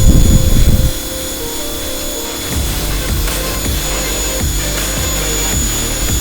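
A Ryobi 1600 electric pressure washer sprays close by with a steady, droning hiss and motor hum, after a louder burst at the start, its tone shifting as the spray moves across a surface.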